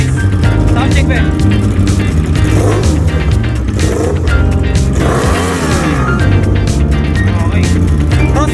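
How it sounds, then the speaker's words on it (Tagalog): A Yamaha MT-10 with a cross-plane inline-four engine revs loudly and close by, its engine note sustained and rising and falling throughout, with crowd noise and voices mixed in. "Dito naman sa gitna, Mt10 cross-plane engine. Inline 4 din siya, guys. Sound check, be."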